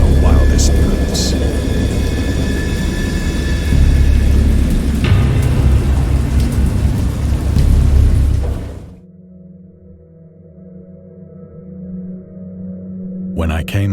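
Thunderstorm and heavy rain in the PC game Dagon: a dense, loud rumble of rain with rolling thunder for about nine seconds, then a sudden drop to a low, quieter ambient drone.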